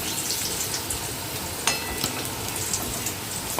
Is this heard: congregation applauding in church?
no